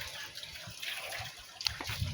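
Rainwater running off a roof in a steady, splashing trickle close by, with a brief louder gush near the end and no talk.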